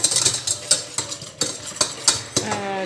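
Yule log batter being stirred by hand in a bowl, a spoon or whisk knocking and scraping against the sides in irregular, close strokes with no talk.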